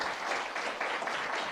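Applause from an audience at a university lecture on artificial intelligence in education, a steady moderate patter of hands that sounds somewhat distant, with no one talking over it.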